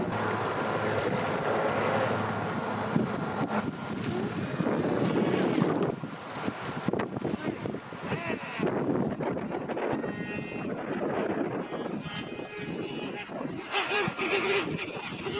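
An RC boat runs across a lake with a thin, whiny motor buzz over splashing water and strong wind noise on the microphone.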